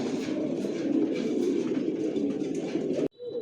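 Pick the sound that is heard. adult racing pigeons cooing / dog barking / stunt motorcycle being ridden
adult racing pigeons cooing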